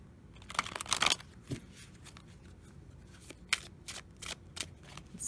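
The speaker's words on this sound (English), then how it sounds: "Let's shuffle." Close, quiet shuffling of an oracle card deck: a few quick riffling bursts and soft slides with pauses between, no talking.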